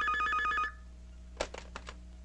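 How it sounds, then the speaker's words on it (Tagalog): An old-style telephone bell rings in a police precinct office, one brief burst of rapid trilling that cuts off, followed by a few faint clicks and handling sounds in a quiet room. "Jerry, telepono."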